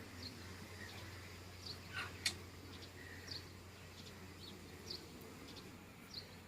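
Honeybees at an open hive in Nepal, heard as a faint, steady low drone with scattered brief higher buzzes of individual bees flying close past, no voices.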